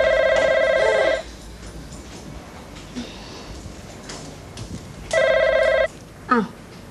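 An indoor telephone rings with a bright electronic double-tone warble in two bursts, one at the start and one near the end, with quiet room noise and faint movement in between.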